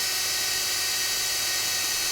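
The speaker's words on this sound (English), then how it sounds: "make sure that I've got a little dimple to drill into" An electric drill spins steadily against a pedalboard, driving a slow bit into a marked dimple, a continuous high whirring drone without pauses or voices.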